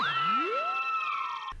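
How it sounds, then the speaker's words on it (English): Beam Cannon sound effect from a Pierre Bourne drum kit: a single synthetic laser-like sweep, with tones bending and gliding upward for about a second and a half before cutting off abruptly, faint and alone. "This is Beam Cannon, and you can find it in a Pierre-Bourne drum kit"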